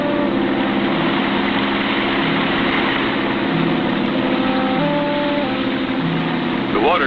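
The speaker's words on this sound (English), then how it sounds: "We'll keep the engine running to force us against the current and hold us from going over the falls." A boat engine runs steadily at a low, constant drone while holding against a river current just above a waterfall, with smooth water around; it stays loud and unbroken throughout, with a brief tonal sweep near the end.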